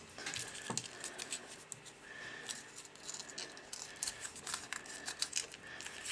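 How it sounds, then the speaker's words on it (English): Punched paper flowers being crumpled by hand, giving irregular crinkling and rustling bursts close to the mic, some sharp crackles among softer rustles, with no voices. "we're just going to crumple each of the flowers up"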